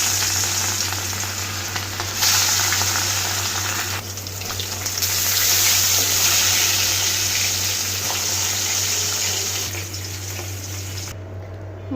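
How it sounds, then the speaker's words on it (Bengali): Fish pieces coated in turmeric and salt fry in hot oil in a kadai, giving a steady, loud, close sizzle and crackle that swells and eases slightly throughout with no talking. "মাছগুলো আমি হলুদ লবণ দিয়ে মাখিয়ে নিয়েছি। এখন চুলায় দিয়ে দিচ্ছি।"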